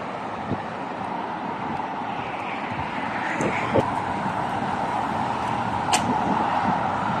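Steady roar of many cars at night along a wide road in Madinat Khalifa South, Doha, Qatar, a continuous wash of passing traffic heard from the sidewalk, with a few brief louder swells as vehicles go by.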